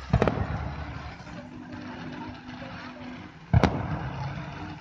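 Fireworks set off in Hannover, Germany, pop in two sharp, loud bursts, one at the start and another near the end, with a continuous rumble of distant crackling and booms in between.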